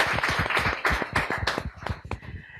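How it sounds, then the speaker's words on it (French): A small group applauding a model at a fashion show, with sharp, distinct handclaps in an uneven rhythm that thin out and fade toward the end. "On applaudit pour elle"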